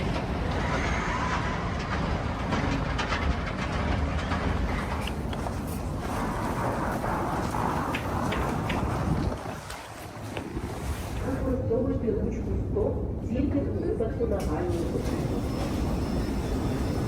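A crowded Kyiv metro train running through the tunnel, a loud continuous roar and rumble that dips briefly midway then swells again, with faint voices in the car.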